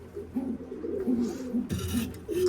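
Soft, repeated pigeon coos at close range in a loft, low and throaty, with a brief rustle of wings partway through.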